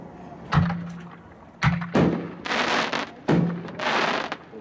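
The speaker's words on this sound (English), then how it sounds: "Those lift charges echo here." Lift charges from a consumer fireworks demo fire in three loud booming thumps, each followed by a rolling echo and crackling bursts spread across a few seconds.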